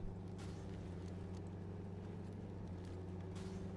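A Squarebody dually pickup truck engine in the SnowRunner game holds a steady low drone at moderate volume, running alone with no talk.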